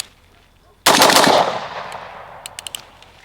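An unsuppressed MK18 Block II replica rifle that is undergassed fires a short rapid burst close by, followed by a decaying echo and a few faint metallic clicks, with no talk.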